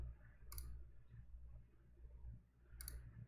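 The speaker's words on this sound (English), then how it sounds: "I'm going to click on the detail." Two crisp computer mouse clicks about two seconds apart over a low steady hum, close and quiet.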